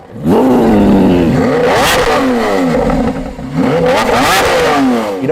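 A Lamborghini V12 engine revs hard twice, rising and falling in pitch with a throaty roar, loud and close.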